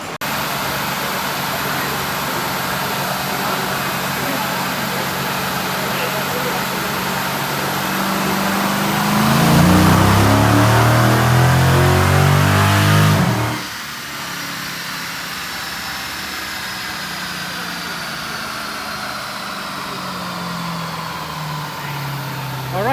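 A 2012 SRT Challenger Yellow Jacket Edition runs on a dyno, its engine droning loud and steady, building into a rising, harder pull near the middle before dropping back to a lower roar.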